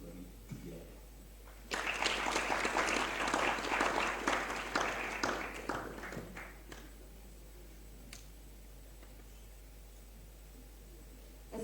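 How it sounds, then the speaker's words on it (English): Audience applause swells at a magazine launch event, a loud burst of clapping lasting about five seconds before fading out, with a low steady hum underneath. "Let's hear another round of applause, please."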